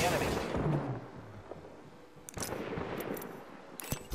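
Gunfire in Apex Legends starts with a heavy burst that fades, followed by scattered sharper shots and impacts at a moderate level with game ambience between them.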